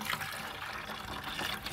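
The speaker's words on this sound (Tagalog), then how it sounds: "So buhos na natin dito yung gatas." Fresh milk poured into a container of water while making lactic acid bacteria serum, a steady, close, continuous pouring rush with no talking.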